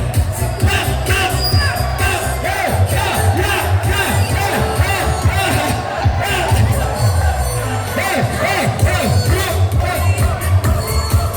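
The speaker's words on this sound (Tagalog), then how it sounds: "Isang masigaw ng palakpakan ay hiyawan!" A crowd cheers and shouts at a barangay muse pageant in San Juan, Tiaong, Quezon. The whooping and voices stay loud and continuous throughout, a busy, energetic roar.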